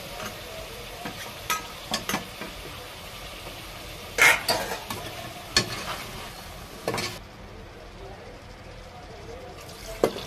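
Potato and cauliflower pieces frying in a pan for vegetable pulao, with a soft sizzle under irregular scraping stirs and clinks of a spoon, close and moderately loud.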